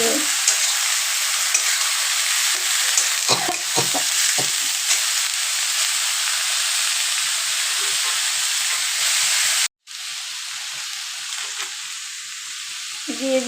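Shredded cabbage sizzles steadily as it fries in a pan, with scraping stirs at the start and a brief break near the end before the loud, close frying resumes.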